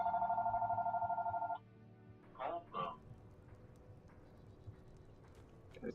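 A house landline phone rings with a steady electronic warble pulsing for about a second and a half, then stops. Two short knocks follow, and a voice talks over faint room noise afterward.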